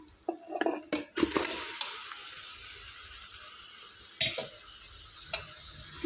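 A kilogram of mutton is fried in a pan for curry, with a soft sizzle running throughout and a few clattering stirs of a utensil against the pan, mostly early on.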